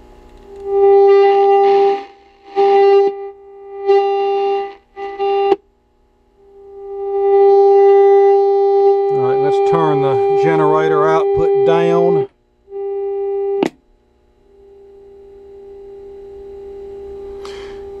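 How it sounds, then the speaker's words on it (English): A signal generator's steady test tone comes through a Grundig shortwave receiver tuned near 14 MHz. The strong, pure hum starts and stops in chopped segments, and someone talks over it partway through. "I just set the signal generator dial until I got a clear signal into the Grundig here."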